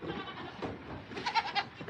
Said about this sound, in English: This is our rescue goat.